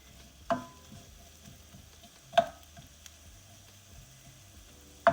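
Onions cooking in a pan on the stove for Jamaican curry shrimp, a faint low sizzle broken by three sharp spoon knocks against the pan at irregular intervals, close, no talking.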